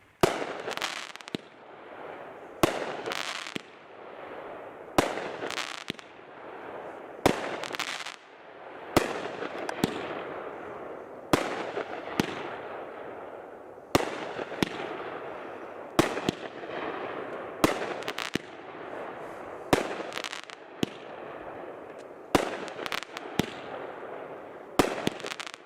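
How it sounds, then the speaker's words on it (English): A Great Grizzly Warrior 500-gram fireworks cake, a 20-shot value cake, fires in a steady run of loud sharp bursts and crackles over about 25 seconds, with no talk. "Another new item in this year, Warrior by Great Grizzly, a 6-1 20-shot"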